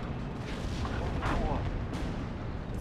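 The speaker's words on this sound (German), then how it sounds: "Kommt noch Artillerie dazu." Artillery fire rumbles in the World War II strategy game Steel Division 2, dense low booms rolling continuously under a voice, with sharper bursts standing out midway.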